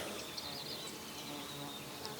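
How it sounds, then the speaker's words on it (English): A hoverfly buzzes in a steady, continuous drone on a mountain trail near Garn's Mountain in the Bighole Mountains. The buzz is faint and constant, with no talk over it. "I think they're called hoverflies. They're loud."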